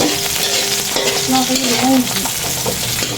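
Garlic and onion fry together in a pan, a steady close sizzle with stirring and scraping, while a voice talks briefly in the background.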